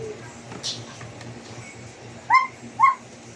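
A dog gives two short, high yips or whimpers near the end, over a low background murmur.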